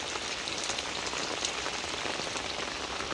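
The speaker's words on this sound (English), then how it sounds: "it is pouring rain" Pouring rain falling outdoors amid running water, a dense, steady hiss of downpour that stays loud and unbroken throughout with no voices.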